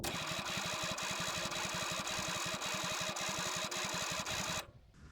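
The starter cranks the engine of a 1973 Toyota FJ40 Land Cruiser in a loud, fast, steady chug that never fires, then cuts off abruptly near the end, leaving near silence.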